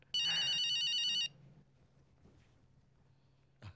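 An electronic telephone rings once in a single bright, buzzing burst lasting about a second. Quiet room tone follows, with a faint click at the end.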